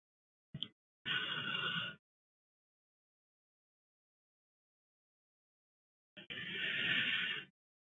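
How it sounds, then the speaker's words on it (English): Two short whinnying bursts played through a computer, a brief chirp followed by a longer neigh, then after a few seconds of silence another long neigh, clear and nearby. "It sounds like a horse."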